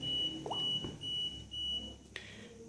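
A Pimax 3 metal detector sounds its no-connection alert, a faint, thin electronic beep that repeats in short broken bursts over a quiet background, with a brief click near the end.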